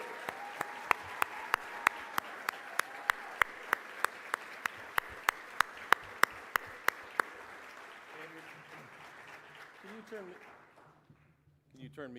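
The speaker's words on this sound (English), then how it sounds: "if you could help me give them a round of applause for all that they do" A benefit gala audience applauds volunteers, with warm broad clapping, a few sharp loud claps standing out, and chatter that continues as the applause fades, ending with a voice.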